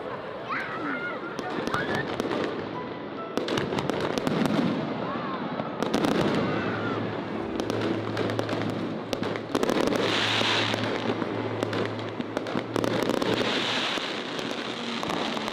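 Fireworks bursting over Sydney at night, a steady run of loud cracks and booms with crowd noise and voices underneath.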